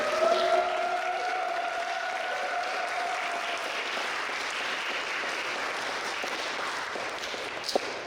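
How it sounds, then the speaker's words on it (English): An audience at a diaspora writers' poetry event applauds poets Nithy Kasa and FELISPEAKS, sustained dense clapping that holds steady for several seconds, with a brief tone fading early on. "of applause for Nithy Kasa and FELISPEAKS."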